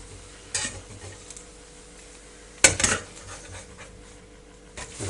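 Frying pan on a stovetop handled while a crepe is flipped, with a few short clanks and scrapes of metal, one sharper knock midway, over a faint steady background hum.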